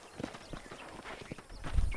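Horse hooves clip-clop in a steady walking rhythm in the video game Red Dead Redemption, close and distinct, ending in a low rumbling thump.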